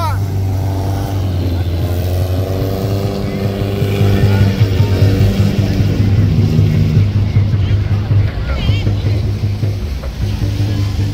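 Fishing boats race at sea off Vietnam, one engine at full throttle with a loud steady drone and rising rhythmic throb, wind and splashing water mixed in, with voices shouting over it.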